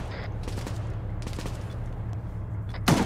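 Bursts of machine gun fire behind trees during a military operation, rapid shots rising over steady low engine rumble and distant battle noise, with a louder burst near the end.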